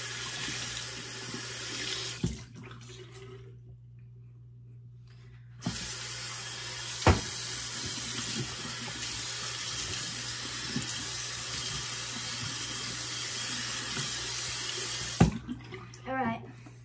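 A bathroom sink tap runs in a loud, steady rush, cuts off for a few seconds, then gushes again before shutting off near the end.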